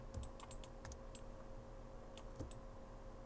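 Quiet, sparse keystrokes on a computer keyboard during Autodesk Maya 2019 modeling work, with a few isolated light clicks spread over a faint steady hum and no voices.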